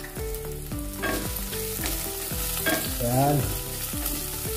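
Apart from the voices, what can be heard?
ginger being sautéed in a pan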